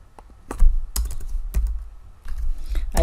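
Someone types code on a computer keyboard in quick irregular clusters of close, crisp keystrokes, with brief pauses and a low thump under some strokes.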